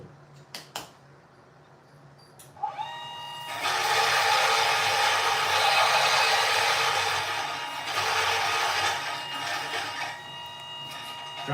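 A Nautilus coffee grinder on a foot pedal grinds coffee beans, its motor spinning up with a rising whine into a loud, steady whirring grind lasting several seconds before easing off.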